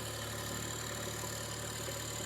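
A tractor with a backhoe attached idles, its engine giving a steady, even drone with a low hum and no change in speed throughout.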